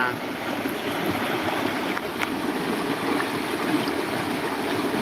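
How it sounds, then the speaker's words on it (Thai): Natural forest stream in the hills flowing steadily, a continuous close broadband rush of water that stays even throughout with no break. "นี่คือน้ำป่านะครับผม"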